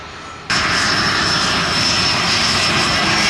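An airplane's engines spool up abruptly and hold a loud, steady roar with a high whine on top, as it begins its takeoff roll at Montego Bay's Sangster International Airport in Jamaica.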